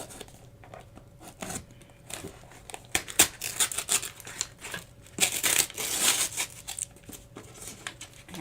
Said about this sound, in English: cellophane and paper crackling coming through the car speakers